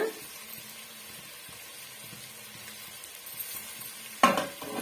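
Mint leaves sautéing in a pan for a white chickpea biryani, a faint soft sizzle with light rhythmic stirring, ending in a louder clatter of the spoon against the pan.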